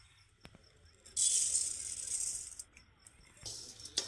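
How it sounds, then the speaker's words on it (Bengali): Salted rice grains poured into a preheated wok on a stove for making puffed rice without sand, giving a sudden loud, steady granular hiss that tapers off, then a short second burst near the end. "এখন লবণ মাখানো চালটা কড়াইয়ের মধ্যে দিয়ে দেবো"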